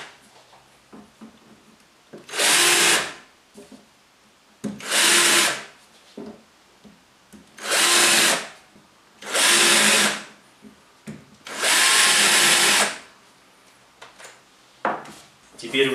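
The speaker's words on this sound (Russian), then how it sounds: "беру шарошку и делаю углубление под шляпки самореза" An electric drill with a countersink bit cuts recesses for screw heads in wood while a writing desk is being built, running in five loud whirring bursts of one to two seconds each, with quiet pauses between them.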